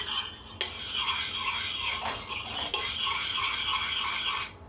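A mixture for kimchi is stirred steadily in a pot on the stove, giving a continuous scraping, rubbing sound with a couple of knocks from the utensil against the pot. No voices.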